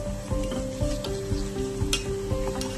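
Homemade hair oil bubbles and sizzles in a pan while a spoon stirs it, giving close, rhythmic scrapes and clinks over a steady frying hiss.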